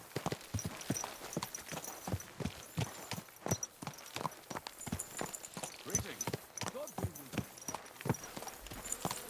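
Horse hooves in the medieval video game Kingdom Come Deliverance 2 clip-clop in an uneven walking rhythm, close and distinct, with occasional speech over the steps.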